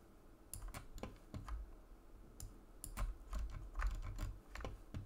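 Quick taps on a computer keyboard come in irregular bursts of clicks, soft and close, with no talking.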